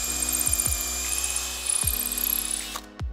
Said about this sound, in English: you're gonna drill all the way in until it doesn't drill any further